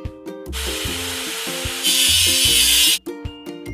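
In a truck cartoon for kids, rust is scraped off a machine: a rough, rasping scrape that grows louder and harsher midway, set against a bouncy cartoon music line, with no voices.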